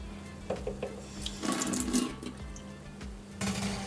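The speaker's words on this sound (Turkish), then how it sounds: "Suyun altına tutacağım." Tap water runs over a freshly boiled, very hot peanut being rinsed under a faucet in a kitchen, giving a steady splashing stream with brief swells of louder gushing.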